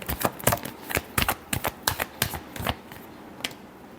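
Tarot cards get a final shuffle in a run of quick, crisp riffling snaps and flutters, close and fairly loud, with no voice over them.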